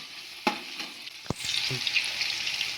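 Seven to ten green chillies fry in hot oil in a pan for a layer chicken biryani. A couple of spoon or pan knocks are followed by a steady, close sizzle that swells and holds to the end.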